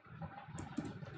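Keys tapped on a computer keyboard while a simple C program is entered in Dev C++, a soft, steady patter of close keystrokes lasting about a second with a faint hum beneath.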